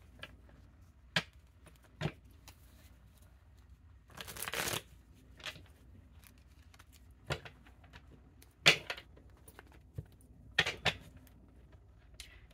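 Playing cards being shuffled in short riffling bursts spread across a quiet stretch, with a longer louder flurry near the middle and several brisk snaps of cards later, no talking.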